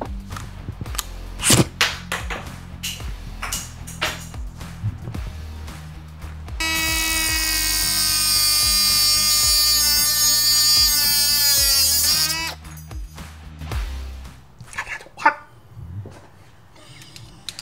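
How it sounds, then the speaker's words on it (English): A cutoff wheel slices through a 3/16-inch round steel bar, a loud, bright, steady grinding whine lasting several seconds, surrounded by scattered clicks and handling knocks before and after. "And then I'm going to cut this with my uh, cutoff wheel."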